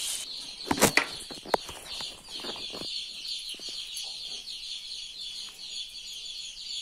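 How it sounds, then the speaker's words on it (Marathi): A hen with an injured eye clucks softly at close range among rustling and a brief flurry of flapping near the start, followed by a steady high-pitched background hum. "हे बघा बघू शकता कोंबडीच्या डोळ्याला कसं लागले"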